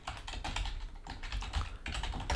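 Fingers type rapidly on a computer keyboard, a close, quiet flurry of uneven key clicks in short bursts with no speech.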